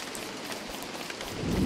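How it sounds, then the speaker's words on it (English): Game rain in Don't Starve patters steadily as a dense hiss of raindrops on a surface, continuous and fairly close, with a low rumble swelling near the end. "Are you serious with the rain right now?"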